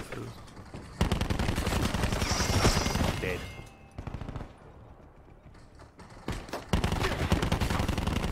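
Rapid automatic gunfire crackles in bursts during a Call of Duty Black Ops 4 multiplayer beta match, loud and close, with brief lulls, mechanical clicks and a player talking over the action.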